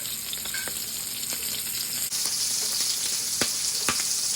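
Shrimp fry in a hot pan with a continuous, loud crackling sizzle, marked by a few sharp pops and a shift in tone midway.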